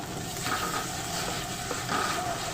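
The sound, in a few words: sautéing spice paste (masala) on low heat in a pan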